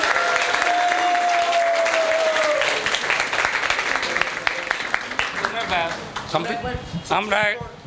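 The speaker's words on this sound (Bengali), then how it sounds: "আজকে আমরা সবাই উইনার, সবার জন্য একটা জোরে হাততালি হয়ে যাক।" Loud, dense applause from an audience at a college book fair event, with cheering and a voice heard in the crowd, thinning into scattered claps and chatter toward the end.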